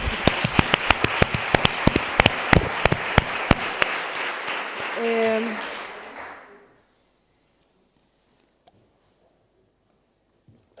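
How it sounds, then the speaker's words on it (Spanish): Audience at a literature talk applauding, a dense burst of clapping with sharp individual claps standing out, fading out after about six seconds into near silence. "me gustaría que aplaudiéramos todas un poco por lo que Odiosas Amadas nos está dando en 2 años"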